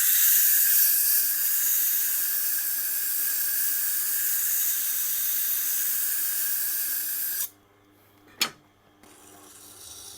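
A steel chisel rubbed back and forth on a sharpening stone, giving a continuous loud gritty hiss up close that stops abruptly near the end, followed by a single sharp scrape and quieter rubbing.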